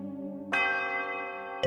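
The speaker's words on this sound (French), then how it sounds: "Au 12e coup de cloche, la vieille horloge du château se remit en route." Old castle clock bell striking in a fairy tale, two deep resonant strokes with long ringing decay, the second landing just as the first still hums, clear and close.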